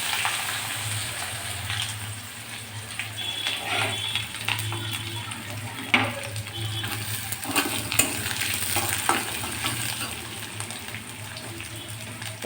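Chopped onion and garlic fry in a pan with a soft, steady sizzle, broken by scattered scraping and clicking from stirring, heard up close with no talking.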